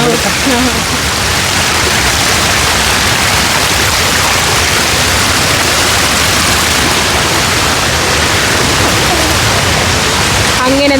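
A loud, steady roar of rushing water from Kappimala Waterfalls in Kannur, continuous and close, filling the whole clip with dense hiss.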